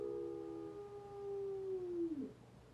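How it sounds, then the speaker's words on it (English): A sleeping dog howls softly in a dream, one drawn-out tonal howl that slides slowly downward and breaks off near the end, faint and close against a quiet room. "That's my dog. He's having a very entertaining dream"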